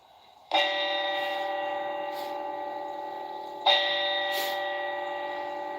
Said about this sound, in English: And then they play 4 bells.